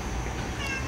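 A female cat lets out one brief, soft meow inside a home, heard faintly through a steady background hiss, with no talking.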